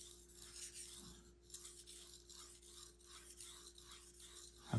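A Japanese kitchen knife is drawn across a sharpening stone in repeated rhythmic strokes, a soft close-up rasping under a faint steady hum.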